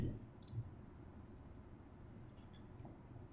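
A mouse click or two while configuring a Hikvision NVR's software interface, each a short, sharp tick over a steady low background hum.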